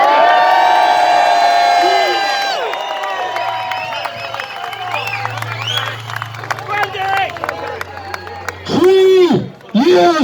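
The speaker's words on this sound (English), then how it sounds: "So can I get a big round of applause" A large outdoor rally crowd at the Grand Parade in Cork breaks into loud, sustained applause and cheering with whoops, swelling and rolling for several seconds after a voice over a public address system finishes speaking.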